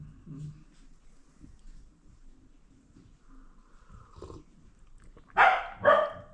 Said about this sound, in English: That's the dog right there.